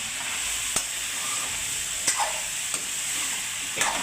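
Brinjal and dried bombil fish curry with tomato being stirred in a frying pan, a steady soft sizzle broken by a few sharp scrapes and clinks of the spoon against the pan, with no talk.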